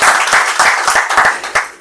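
Applause for a retiring senior foreman at an office retirement ceremony, a dense burst of clapping from a group of people, loud and close, continuing steadily throughout.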